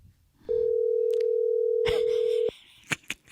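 A telephone dial tone plays as a single steady, loud hum lasting about two seconds while a call is being placed, followed by a couple of brief clicks.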